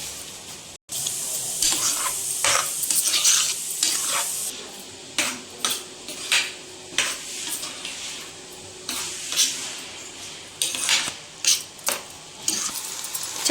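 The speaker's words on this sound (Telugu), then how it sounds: "రైస్ వేసుకున్నాక కొంచెం సాల్ట్ వేసుకొని అయితే కలుపుకుందాము మొత్తం కలిసేంత వరకు." Rice and salt being stirred together in a pot while making sweet pongal, with repeated close scraping strokes of a spoon against the pot in an irregular rhythm over a soft sizzle, no talking.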